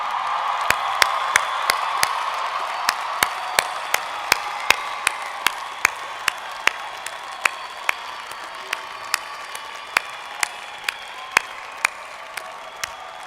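Applause from families and supporters at a 2018 university undergraduate commencement, a broad crowd clapping beneath a steady series of sharp, regularly spaced clicks.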